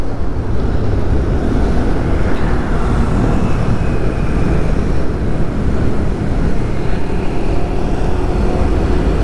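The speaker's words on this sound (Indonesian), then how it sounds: "Nah, ini ketemu macet" Road noise from a Honda BeAT Street 2024 scooter crawling through a traffic jam, a loud continuous broadband rumble with wind buffeting the mic, steady throughout with no clear individual vehicles standing out.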